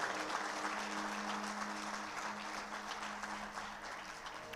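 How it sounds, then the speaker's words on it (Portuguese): A church congregation applauds strongly for the Lord. The clapping is continuous and dense, holding at an even level from start to finish. "dê um aplauso bem forte ao Senhor"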